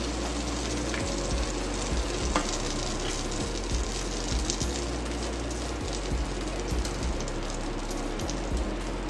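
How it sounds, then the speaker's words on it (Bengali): Two eggs frying in oil in a pan, a steady close hiss and crackle like rain on a surface, with a faint regular low ticking underneath and no talking. "আমি ডিমটা ভেজে নিচ্ছি। দুটো ডিম দিয়েছি"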